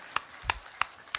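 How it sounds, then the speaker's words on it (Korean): A few sparse claps from a church congregation, four sharp isolated slaps spaced out over about a second, close and fairly faint with no talking. "썰렁하게 박수 치는 경우도 처음 봅니다"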